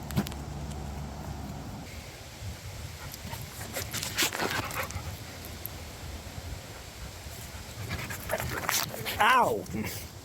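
Dogs pant close by in quick rhythmic breaths, with a few thin whimpers and a rising whine near the end. A person talks over them at times.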